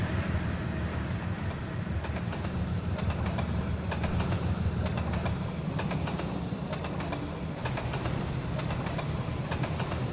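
A passenger train in the Trainz simulator rolls along the track at speed, a steady rumble with repeated clickety-clack wheel beats over rail joints, continuous and fairly close, with faint bird calls in the background.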